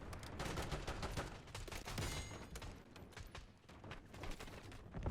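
A PPSh submachine gun rattles off rapid, continuous automatic bursts in a Call of Duty match, with dense overlapping gunfire that barely lets up over several seconds, loud and close.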